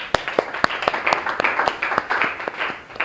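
A small class applauds a student, scattered individual claps ringing out distinctly in an uneven rhythm, fairly close and moderately loud.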